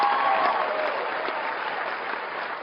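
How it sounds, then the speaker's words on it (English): Loud crowd applause at a political rally, steady dense clapping filling the whole stretch, with a brief tone near the start and no speech on top. "I want to hear loud applause"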